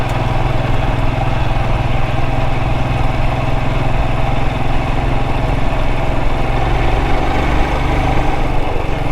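Royal Enfield Himalayan 411 motorcycle climbing uphill, its single-cylinder engine droning loud and close in a steady, unbroken labor with a constant throbbing pitch and no voices.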